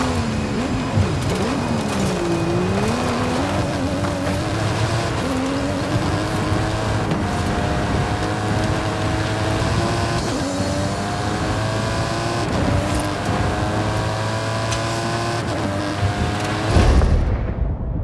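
A custom-engined stunt car, the Mike Steel Special, drives uphill in Forza Horizon 5, its engine loud and continuous, pitch climbing and dipping through gear changes, before cutting off abruptly at the end.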